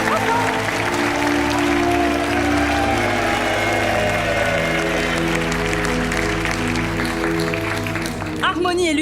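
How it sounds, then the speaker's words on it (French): A game-show studio audience applauds, a steady wash of clapping over sustained music, with a voice briefly heard at the very end. "Sous les applaudissements."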